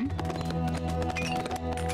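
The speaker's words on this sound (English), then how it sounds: "These horses coming out again." Horses run in the real-time strategy game 0 A.D., rapid tapping hoofbeats layered over game music with sustained tones, fairly loud and continuous.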